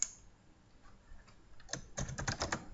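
A burst of fast, irregular computer keyboard typing as a small program is written, with clicky keystrokes starting faintly and then coming quick and close for the last second, no voices.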